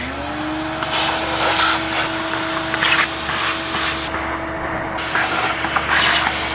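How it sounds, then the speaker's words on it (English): A KTM vacuum cleaner drones steadily at close range, its motor holding a constant hum with airy rushing noise and slight fluctuations throughout. "So we got our trusted KTM vacuum because you know it's gonna suck"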